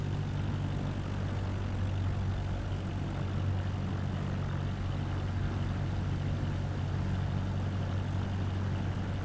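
A simulated aircraft engine in Microsoft Flight Simulator 2024 drones steadily while taxiing and throttling up, a continuous low hum with propeller-like rumble, even and unbroken throughout.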